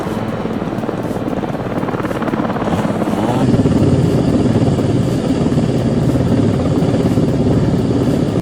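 Old Belarus tractor engines straining hard while pulling logs, a loud, continuous diesel drone that swells and thickens partway through, with no voices.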